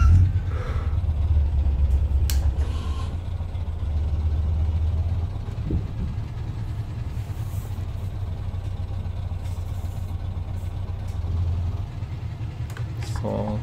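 A Scania R580 V8 truck engine in Euro Truck Simulator 2, hauling an 18-tonne load, rumbles low and steady throughout, with a faint muffled voice now and then.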